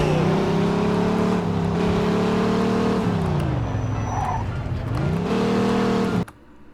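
A car in the video game Mafia II drives with a loud, continuous engine drone that dips and climbs with the throttle, with brief tire squeal, before cutting off abruptly near the end.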